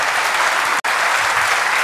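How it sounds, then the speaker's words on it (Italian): Audience applause for guest speaker Professor Nino Galloni at an Italian conference event: dense, steady clapping from a crowd, broken by a brief dropout midway. "un applauso."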